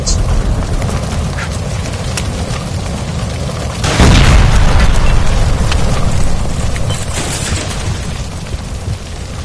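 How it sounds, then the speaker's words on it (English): A gas line explosion in the video game L.A. Noire, a loud sudden boom around the midpoint that swells into a sustained roaring rumble over continuous game noise. "Shoot the gas line, Cole, we're out of here!"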